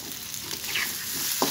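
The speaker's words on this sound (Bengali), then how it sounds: "এখন ভেজে নিচ্ছি, কষিয়ে নিচ্ছি, মশলাগুলো অ্যাড করেছি" Potatoes with added spices frying and being stirred in a pan, steady close sizzle with a scrape of the spoon near the end, no talking.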